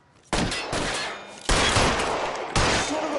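Gunshots in the video game L.A. Noire, set in 1940s Los Angeles: three loud, close volleys of gunfire, each striking sharply and ringing out over continuous crackling noise.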